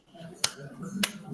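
Two sharp hand claps about half a second apart in a classroom clapping game, crisp and close, with a voice calling out alongside them.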